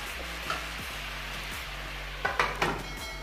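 Chicken marinated with ginger, garlic, salt and turmeric fries in a pan with a steady close sizzle, broken by a few metallic clinks of a utensil against the pot near the end.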